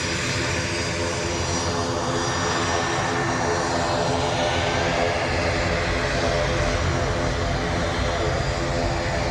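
ATR turboprop airliner at Dublin Airport, its engines droning loud and steady throughout with a broad, constant roar and no break in level.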